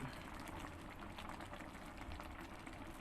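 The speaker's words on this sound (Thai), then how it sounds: "หมอเดือดพุดๆอยู่ครับ" A pot of rattan and pork curry boils steadily, with a dense, continuous bubbling and simmering texture close by and no voices over it.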